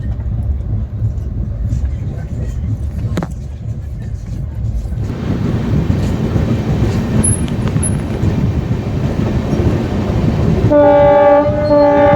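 A train rumbles past nearby, a loud, continuous rolling clatter of wheels that grows heavier, ending with a sustained horn blast.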